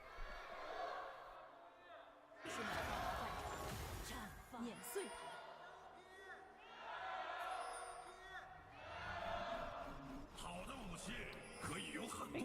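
A large home-arena crowd at an esports LPL Summer Split League of Legends match cheers and roars in rising and falling waves, loud and sustained, with commentators talking over it.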